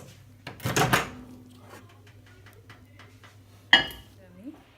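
A Valentine's Day cake going into a microwave oven, with a clattering rattle of dish and door handling early on, then a sharp click or door shut later, over a low steady hum.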